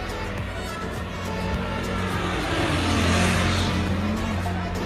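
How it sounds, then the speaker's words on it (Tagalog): A noisy habal-habal motorcycle taxi passes near Wushan Temple in Tainan, Taiwan, a loud continuous engine roar that swells and peaks midway over steady street ambience. "maingay yung sasakyan"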